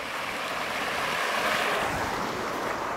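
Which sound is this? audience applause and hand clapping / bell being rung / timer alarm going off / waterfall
waterfall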